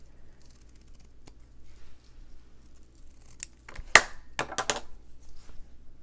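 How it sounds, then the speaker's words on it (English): Scissors snip the ends of a ribbon, a few sharp close cuts arriving late after quiet handling, with no talking. "Decide the length that you want your ribbon to be, and then cut the ends however you want them."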